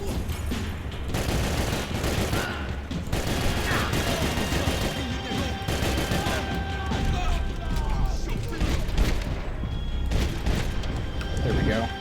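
Dense gunfire in a Max Payne 3 slow-motion dive shootout, sharp shots and rattling bursts piled together with mechanical clatter, loud and continuous, while someone talks over the action.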